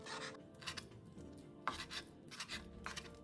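A knife cuts through flattened, shelled shrimp with a handful of quick, soft, rasping strokes on a board, close and fairly quiet, with no one talking.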